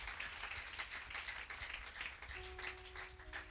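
A church congregation applauds steadily, a dense, even wash of many hands clapping at moderate distance, with a faint sustained tone entering toward the end.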